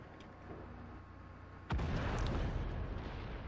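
A single loud tank cannon shot in a video game, a sharp boom with a rumbling tail over low battlefield ambience.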